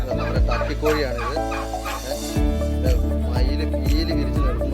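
A farm turkey with fanned tail makes loud, harsh calls close by, a jumbled stretch at first and then a run of rapid, falling gobble-like bursts in quick succession.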